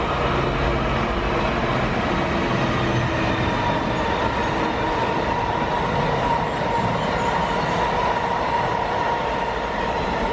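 Low railway wagons roll through Hitchin station with a loud, continuous rumble and roar, steady clattering wheel noise filling the whole stretch close by.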